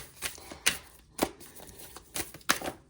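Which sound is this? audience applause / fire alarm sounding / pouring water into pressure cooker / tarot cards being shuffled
tarot cards being shuffled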